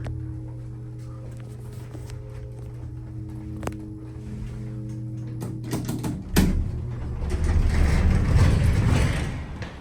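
A vintage Eastern hydraulic elevator in a downtown Atlanta motel hums with steady tones and a few sharp clicks. A heavy clunk follows, then a louder rushing mechanical drone that fades near the end.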